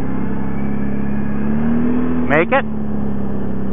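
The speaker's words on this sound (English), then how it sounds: "Sounds like my belt's squealing." An ATV running on snow tracks with a newly fitted drive belt: a constant engine drone with a tone that rises slowly, then a brief sharp double squeal near the end, while a person speaks briefly.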